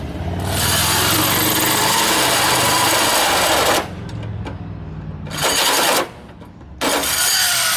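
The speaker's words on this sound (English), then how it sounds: "3 1/4 inch, 3 inches and a quarter hole saw" A 3 1/4 inch hole saw on a power drill cuts through a Jeep XJ's body for a snorkel install, giving loud sustained whining bursts with short pauses where the motor drops off before starting again.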